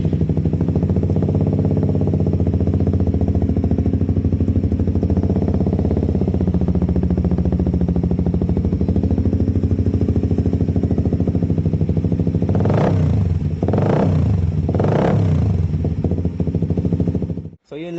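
Suzuki GSX 150 motorcycle with a Vmax muffler and DB killer fitted, idling steadily with a loud, continuous exhaust rumble, then three quick throttle blips near the end before cutting off.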